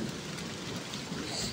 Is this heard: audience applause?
no